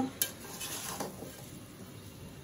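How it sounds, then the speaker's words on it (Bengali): Goat meat and potatoes stir-fried in a pan, with a soft steady sizzle and occasional scrapes and clinks of a spoon against the pan. "এখন আলু দিয়ে মাংসটাকে আরো কিছুক্ষণ সুন্দর মতো কষিয়ে নিব।"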